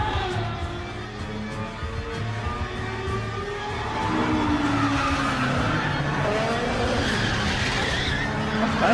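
A Ferrari 599 Fiorano accelerates hard with screeching tires, the engine roar and skid swelling louder midway and holding close and intense.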